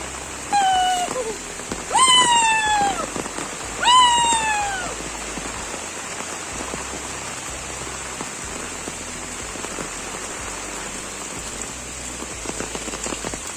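Steady rain falls through a forest of trees and bushes in September, a dense, even hiss that runs the whole time. A few loud, wailing animal calls ring out in the first few seconds.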